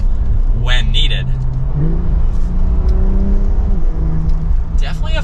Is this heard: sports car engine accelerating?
yes